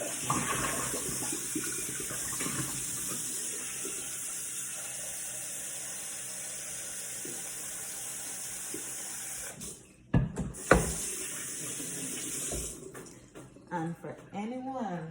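Tap water runs steadily into a sink while saltfish is washed under it, with a continuous hiss and occasional splashes. The flow briefly stops near the end, and a voice talks over parts of it.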